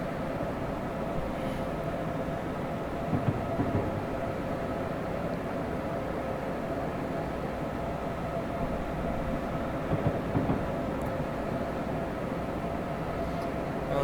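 An ACS-64 electric locomotive coasting downhill on the New York to New Haven line in Train Simulator 2015, a continuous low rumbling cab drone with steady rail noise and a few faint clicks, no talk.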